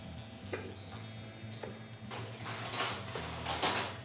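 Chopped onions sizzle and crackle in a hot pan as they are stirred for steak rollups in a firehouse kitchen, with steady frying hiss and scraping stir strokes swelling louder toward the end; no one speaks.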